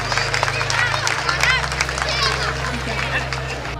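Crowd applause and clapping at a Republic Day 2023 event in Jayanti Stadium, Bhilai, after a dog squad demonstration, steady and dense over a low hum, with babble throughout.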